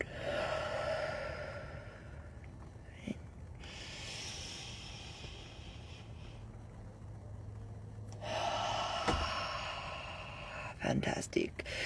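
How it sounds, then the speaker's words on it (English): Slow, deliberate breaths drawn in and let out during a guided deep-breathing exercise, a few soft airy inhales and exhales close to the microphone with low background hum and no speech over them. "we're just going to take 3 deep breaths"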